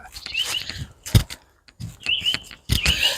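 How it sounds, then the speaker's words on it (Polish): Birds chirp and sing outdoors on a warm spring day, bright short whistled calls repeating in bursts amid a person talking nearby and footstep noise. "Ale ptaszki śpiewają."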